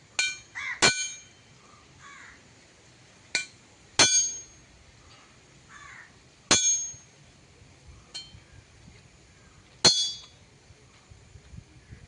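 An iron chisel struck with a hammer to cut iron, worked by a patch worker in Aluva: sharp, ringing metallic strikes, single and paired, spaced irregularly and heard alone.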